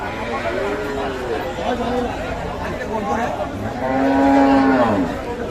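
A milking cow lets out several loud, drawn-out moos close by at a cattle market, with people chattering in the background.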